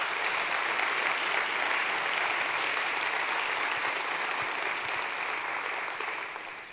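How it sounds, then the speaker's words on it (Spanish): A church congregation applauds together after a sermon, a dense, steady wash of clapping hands filling the room without pause and thinning slightly only at the very end. "Denle un fuerte aplauso a Jesús entonces"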